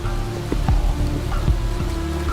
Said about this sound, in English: the rain just gets to be a bit too much